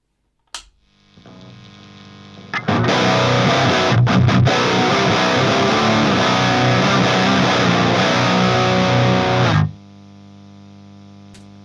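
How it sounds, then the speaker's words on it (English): Distorted electric guitar played through a speaker-cabinet impulse response plugin rings out as one loud, sustained chord after a brief pick noise, holding for about seven seconds before cutting off to a low hum. "a plugin that is recreating the sound of a speaker cabinet in front of a microphone"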